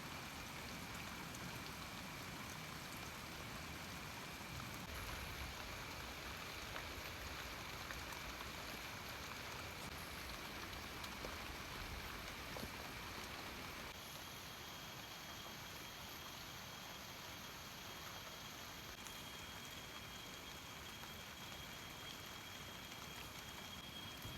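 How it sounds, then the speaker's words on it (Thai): Steady rain falls continuously at night on a farm, a soft even hiss with no breaks, heard from indoors at low volume. "ฝนห้ำตลอดเลยทุกคนเลย"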